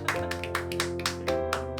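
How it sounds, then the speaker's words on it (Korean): A small group claps in celebration while unboxing a YouTube silver play button, about eight brisk, evenly spaced claps over a sustained tonal background. "박수."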